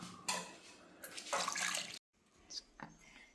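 Water pouring into a cooking pot in a home kitchen, a steady splashing rush for about two seconds, then a few lighter splashes and drips.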